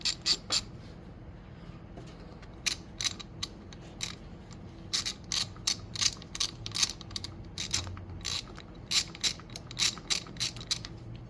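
A ratchet wrench clicks in quick, uneven bursts while removing long 10 mm manifold bolts from a Honda CT70 motorcycle that sat for 20 years. The sharp, close pawl clicks come in runs over a low steady hum.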